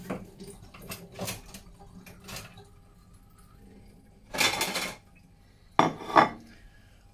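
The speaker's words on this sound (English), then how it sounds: "I first obviously wash the fruit." Sapodilla fruit rinsed under water at a sink, with clattering splashes and handling noises in a few separate bursts, the loudest two near the end, close and fairly loud without talk.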